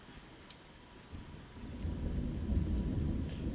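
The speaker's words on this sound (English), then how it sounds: "Thunder!" Deep thunder rumbles through steady rain during a storm, a low rolling roar that swells louder in the second half, with light patter of drops underneath and no talking.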